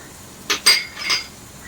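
A spoon stirs turmeric powder, salt, mustard seeds, coriander and chili powder into cooked raw mango pieces, making two or three quick, bright metallic clinks against the vessel in an otherwise quiet moment.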